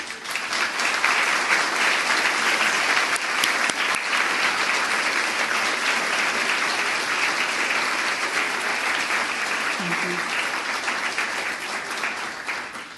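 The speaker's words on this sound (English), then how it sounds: "You deserve a round of applause." Sustained applause from an audience at a convocation event at the San Diego Central Library, honoring a safety and inclusion task force; dense, steady clapping fills the whole stretch at an even level before easing slightly at the end.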